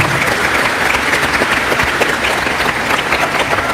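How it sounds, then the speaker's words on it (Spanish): Loud, dense audience applause at a church gathering, a steady wash of many hands clapping with no break and no voices rising above it. "Un aplauso para el hermano."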